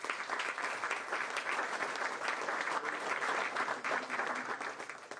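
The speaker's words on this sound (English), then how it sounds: "Give yourselves a big round of applause." A room full of people applauding at a New York City mayoral housing announcement, loud dense clapping sustained evenly for several seconds before tapering at the end.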